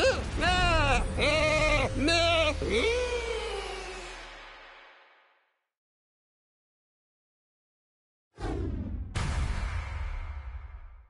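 Several rapid, wavering bleats in a row from a sheep enemy in the Skylanders Trap Team video game, game-like and slightly processed, then silence, followed by sharp bursts of noisy effects.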